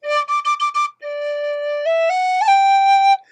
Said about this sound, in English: whistle's not behaving well today